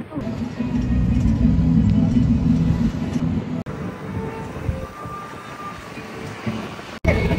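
A city bus rumbles in Mexico City, a loud, steady low engine drone that eases to a lighter idle with street noise and brief talk nearby.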